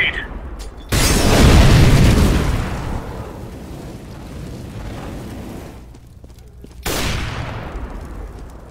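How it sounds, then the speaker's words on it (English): A grenade explodes in CS:GO with a loud, deep boom that slowly decays into rumbling, followed several seconds later by a second sharp blast. "Grenade!"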